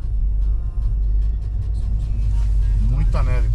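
A 4x4 car engine rumbling steadily while its wheels spin in heavy snow on a snowy mountain road, a loud continuous low drone with a rising whine near the end and a person talking over it.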